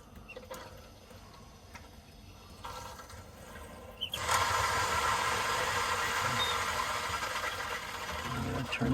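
Water rushing through an under-sink filtration system as its cartridges fill: quiet mechanical rumble at first, then a sudden loud, steady hiss of flowing water that continues and grows slightly, with brief talk at the start.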